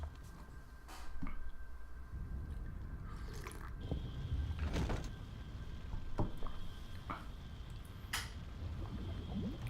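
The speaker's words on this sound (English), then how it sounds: "I hear the bubbling of lava." Lava bubbling in the video game Oblivion, with low, continuous gurgling and wet popping across the whole stretch, plus occasional sharper game effects and no speech.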